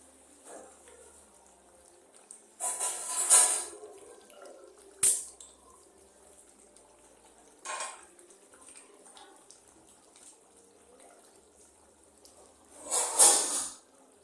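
A little water splashes and trickles in a frying pan being rinsed at home after a family meal. Short bursts of running, splashing water come a few times with quiet gaps between them, close by, with no talking.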